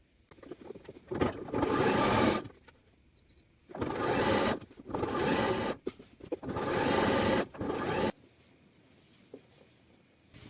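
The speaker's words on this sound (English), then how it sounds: "I can put the side seams and the inner leg seams together" A sewing machine stitches side seams and inner leg seams on a garment in three or four sustained whirring runs with brief stops between them, close and moderately loud, with no talking.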